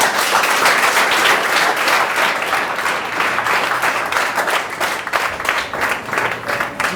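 Schoolchildren applauding together at a school in Lubumbashi, loud sustained clapping from a close group with a few voices mixed in.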